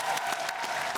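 A studio audience at a game show claps together in a brief burst of applause, dense and steady for about a second.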